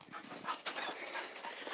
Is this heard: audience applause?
no